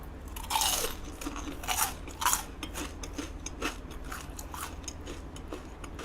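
Crisp, crunchy bites and chewing of fried squid tempura, close up and alone with no talk, as several loud crunch bursts give way to quieter, steady chewing.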